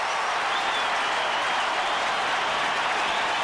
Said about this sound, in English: They will be roaring their heads off